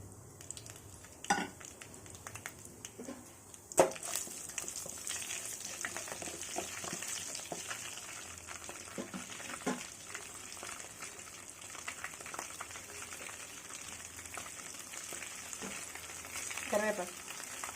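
Tempering spices for a brinjal and potato curry sizzle steadily in hot oil in a kadai, a continuous crackling fry broken by a few sharp pops and spoon-against-pan clinks, with no talking.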